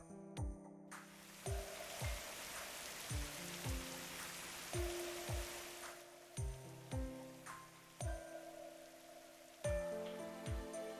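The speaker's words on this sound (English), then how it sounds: "This rain just came out of nowhere" Rain patters steadily in Fate/Grand Order, a soft continuous wash broken by recurring chiming game tones.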